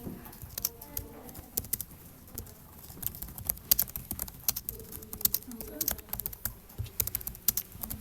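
Rapid typing on a computer keyboard, a steady patter of close, crisp key clicks in irregular bursts, fairly quiet, with faint voices in the background.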